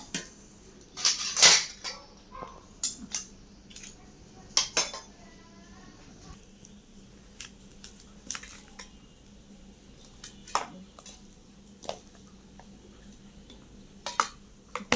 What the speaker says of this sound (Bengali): এই যে ভাত বেড়ে নিলাম